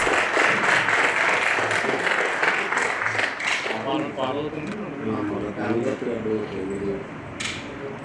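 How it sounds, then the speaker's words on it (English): Audience applause at an MOU signing ceremony, a dense crowd clapping loudly at first and then thinning out while someone speaks over it through a microphone. "invite him onto the dais with a huge"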